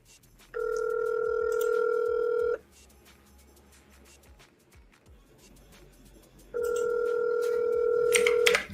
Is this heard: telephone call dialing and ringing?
yes